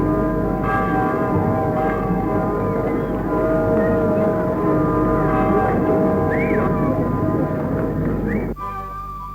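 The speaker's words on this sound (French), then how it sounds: "C'est alors à qui s'efforcera d'avoir le privilège de faire résonner chaque cloche." Church bells ring continuously at a church in Grisy-Suisnes, loud and sustained, their overlapping tones blending into a dense resonant wash that fades slightly at the end.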